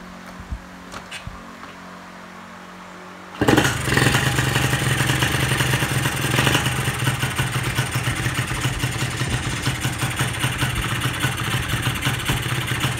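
A motorcycle engine with an oversized carburettor pilot jet catches suddenly after a few quiet seconds of small knocks, then runs on loud and close with a rough, clattery idle.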